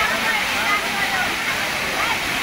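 Rushing water at Jhor waterfall, a steady broadband roar that fills the whole clip without pause, loud and close, with no clear voices over it.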